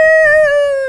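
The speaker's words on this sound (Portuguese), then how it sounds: "Volkswagen. Buzina." Horn of a Volkswagen-engined rail car on the Pernambuco line, a single loud, clear, sustained tonal blast lasting just under a second.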